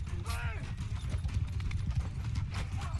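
Horse hooves in the medieval combat game Mount and Blade 2: Bannerlord, a rapid clip-clop gallop running steadily under someone talking over game audio.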